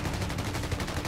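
Dense gunfire from a Company of Heroes 3 2v2 multiplayer battle, rapid overlapping shots and bursts in a steady loud barrage with no talk.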